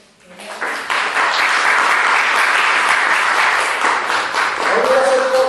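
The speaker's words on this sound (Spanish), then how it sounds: "Denle un aplauso al Señor." A church congregation bursts into applause, swelling quickly from quiet into loud, sustained clapping that fills the room, with a faint voice near the end.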